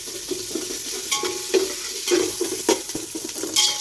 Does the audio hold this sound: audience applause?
no